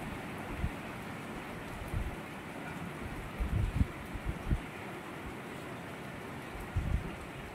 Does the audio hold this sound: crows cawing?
no